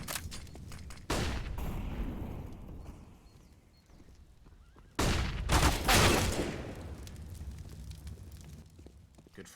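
Gunfire bursts in Counter-Strike on the Inferno map during an ESL Challenger League match, two loud bursts of shots a few seconds apart over a constant game background.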